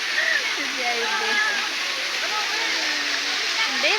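A river flowing, heard as a steady bright rushing hiss throughout, while people talk and call out over it.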